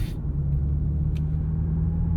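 A steady low artificial engine hum played through the car speakers of a 2025 BMW M5 (G90) drones inside the vehicle, with faint road rumble and a couple of brief soft clicks.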